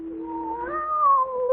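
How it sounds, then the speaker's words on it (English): A single drawn-out cat meow in an old-time radio drama, rising slightly in pitch and then holding, clear and fairly close in a quiet setting. "There's that cat again. And it sounds as if it's coming this way."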